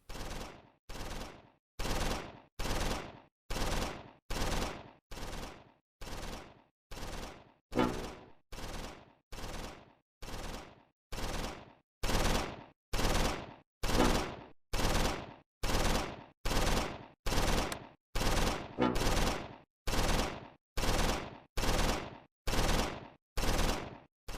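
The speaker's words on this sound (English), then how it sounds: "Second platoon's medium machine gun opens up on German infantry at the bridge" Sustained bursts of medium machine gun fire in the Close Combat 4 wartime strategy game, Battle of the Bulge at Dasburg, with rapid evenly spaced shots repeating loudly and steadily for over twenty seconds.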